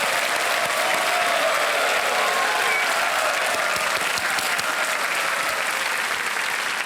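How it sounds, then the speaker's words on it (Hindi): Loud, sustained applause fills the television quiz show studio as the audience cheers a winning contestant, the clapping staying thick and steady throughout with no break. "Big applause for Pawan Kumar."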